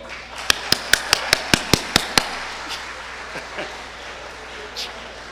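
Eight sharp hand claps from a conference session audience ring out in quick, evenly spaced succession, then fade into quiet room noise.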